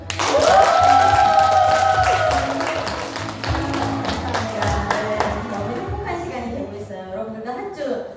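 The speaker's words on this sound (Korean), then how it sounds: "여러분들도 서현희 리더님 이상으로 더 큰 성장을 이루고 싶은 만큼 박수!" Audience clapping during an indoor training session, a rapid patter of many hands that fills the room while a presenter's voice rings out over the start and keeps talking as the applause settles.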